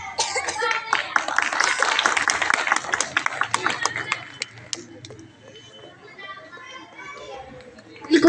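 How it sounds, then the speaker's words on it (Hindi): Audience clapping at a Republic Day function, a dense crowd applause that swells strongly for several seconds and then thins out into scattered claps and murmuring near the end. "बिल्कुल जोरदार तालियां।"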